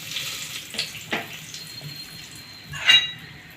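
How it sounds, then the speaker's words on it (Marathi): Bay leaves dropped into hot oil in a pan give brief crackling sizzle bursts, with a louder spit of sizzle near the end over a low, quiet background. "तेल तापले आपलं, तमालपत्र टाकूया"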